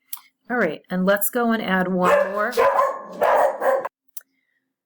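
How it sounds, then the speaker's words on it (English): Dogs barking somewhere nearby, a few sharp yips and barks mixed in beneath someone talking steadily in the foreground. "Excuse the dogs barking in the background."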